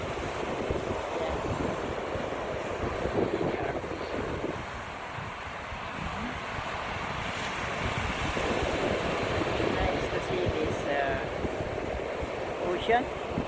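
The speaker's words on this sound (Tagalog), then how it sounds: "Ocean." Calm ocean waves washing steadily with gusty wind buffeting the microphone, a fishing boat somewhere offshore, continuous broadband wash without clear individual breakers.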